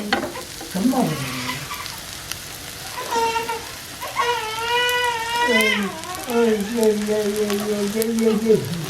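Onions and onion stalks frying in a pan, a continuous crackling sizzle with stirring underneath a person talking, who keeps speaking over the frying for most of the stretch.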